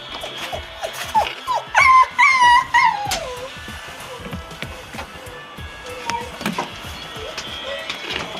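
A small dog whimpers and yips in a pitched, wavering run of cries amid street noise at a sweet potato shop in Beijing, with clicks and bustle around it and no talking.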